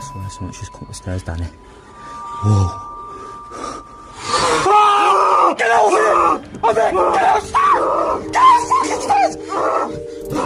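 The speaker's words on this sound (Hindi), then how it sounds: "ये लोग उसको देखकर चीखते हुए बाहर की तरफ भागते हैं।" Several people scream and yell in fright as they flee out of a run-down building after a ghostly encounter. Loud, overlapping shrieks and shouts burst in after a quieter start and continue as a crowded, panicked din.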